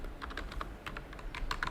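Quiet computer keyboard typing as code is entered, a quick irregular patter of key clicks close by, with no talking.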